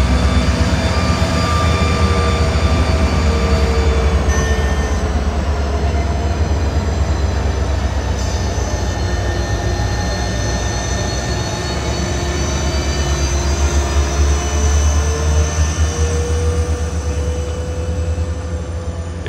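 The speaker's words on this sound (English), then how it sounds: "The engines are passing underneath the southernmost ACL-era signal cantilever left on the CSX." Amtrak 91 locomotives pass on a CSX line beneath an old signal cantilever, a loud sustained rumble of engines and rolling rail cars with faint wheel squeal and tonal whine throughout.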